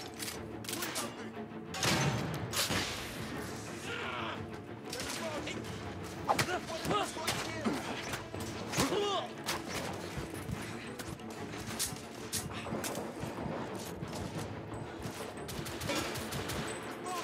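Video game gunfire with a coach gun amid a busy firefight: dense, repeated shots and bursts layered over continuous game noise, with people talking throughout.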